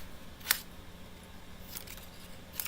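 Scissors snipping papercraft pieces into smaller sizes during die-cutting prep, a few short crisp cuts, one near 0.5 seconds and others later, fairly faint against a quiet room.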